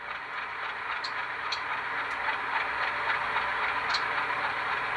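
An ESU LokSound decoder in a Rapido HO RS-11 model locomotive plays a sustained hissing, whooshing splitter valve effect over a low engine rumble, close and steady, with a few faint clicks.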